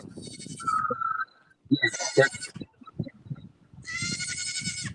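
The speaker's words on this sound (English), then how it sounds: "My little goat's yelling." A goat lets out several loud bleats close by, separated by short gaps, while someone talks between the calls.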